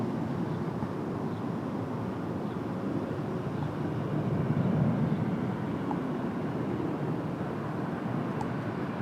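A Boeing 787 Dreamliner departs for SFO, heard as a distant, faint, steady low rumble of jet engines with a broad wash of noise and a slight swell midway.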